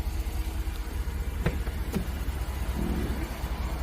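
A Ram 1500 pickup truck's 5.7-liter engine with an aftermarket turbo idles with a low steady rumble, close by, with a couple of brief clicks and a faint rattle partway through.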